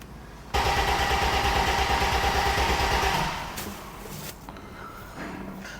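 Mercedes R107 SL engine cranking loudly and steadily for about three seconds without catching, the pulsing grind then fading into a quieter rumble with faint clatter.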